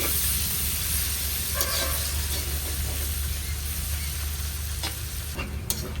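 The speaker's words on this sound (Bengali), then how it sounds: "পেঁয়াজটাকে ভালো করে ভেজে নিতে হবে।" Sliced onions fry in a pan, giving a steady close hiss of sizzling oil throughout, with a few faint stirring scrapes near the end and no talking.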